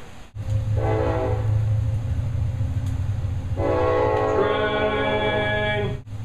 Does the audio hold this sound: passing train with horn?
yes